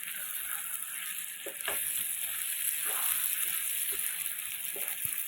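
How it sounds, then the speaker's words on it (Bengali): Sugar and garam masala powder stirred into a sizzling pan of cooking masala, a steady quiet hiss with light scraping strokes that grow a little louder partway through. "এবার আমি এর মধ্যে 1/2 চা চামচ চিনি দেব, 1/2 চা চামচ গরম মশলার গুঁড়ো দিয়ে একটু নাড়াচাড়া করে নেব।"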